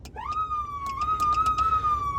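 A fire truck's electronic siren rises quickly to a steady high wail and holds, loud and near, with faint clicks and knocks sounding underneath.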